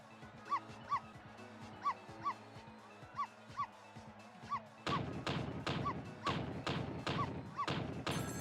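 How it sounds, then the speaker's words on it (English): Cartoonish dog barks from the video game Ghost Trick, a run of evenly spaced single woofs that turn louder and harsher about halfway through, repeating in a steady rhythm with no talk. "I'm really, really good at barking."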